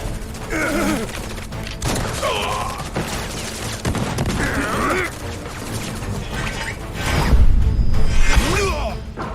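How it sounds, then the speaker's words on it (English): Rapid bursts of machine-gun fire from several enemy guns at once in Final Fantasy 7 Remake, crackling over game music with whooshes and clanks, and game voices talking in between. "Man, 4 machine guns firing at me at once and they couldn't hit me."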